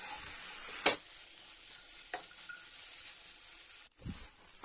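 A beetroot and potato cutlet mixture is stirred in a pan over a faint, steady sizzle, with a sharp clank of the utensil early on and a few softer scrapes.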